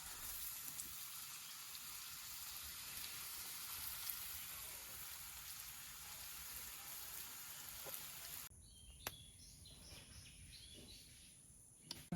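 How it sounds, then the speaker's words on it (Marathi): Chadhan fish roasting in a pan give off a steady, crackling sizzle, close and fairly loud, that drops to a quieter hiss with a few small pops toward the end. "आता हे मासे मी सगळे असे भाजून घेते"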